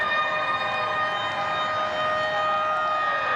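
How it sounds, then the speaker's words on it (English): The full-time siren sounds at an under-20s rugby league match between Storm and Knights. It is one steady, sustained electronic tone lasting several seconds, moderately loud over faint stadium ambience. "You heard the siren, you can see the smiles."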